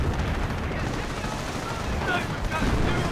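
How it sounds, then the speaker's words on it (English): Continuous dense gunfire and artillery blasts from a WWII strategy video game, with 25-pounder guns and a Panther tank firing, forming a steady loud wall of shots and booms under commentary. "25 pounder blasting away. Panther taking a few shots."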